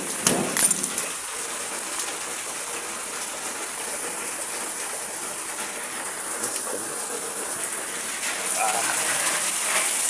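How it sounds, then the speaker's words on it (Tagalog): Steady, dense hiss of heavy typhoon rain pouring down close by, with brief bumps and a voice at the start. "Lakas pa rin ng ulan."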